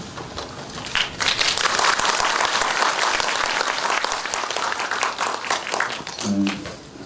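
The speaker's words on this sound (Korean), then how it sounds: "오신 분들은 조금 적은데 박수소리 더 큰데요." An audience at a Buddhist dharma talk breaks into lively, close applause that swells quickly and stays strong before tapering off, with a brief voice near the end.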